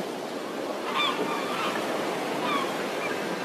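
Ocean waves at a wave power station, a steady roar of surf rolling on throughout, with a few honking bird calls rising above it.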